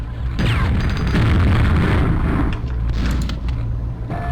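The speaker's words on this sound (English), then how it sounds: "Bombs? Very, very useful for just totally blowing up everything." In a video game, a bomb goes off with a loud, sustained explosive boom and rumbling debris lasting several seconds, close and heavy, with no talking over it.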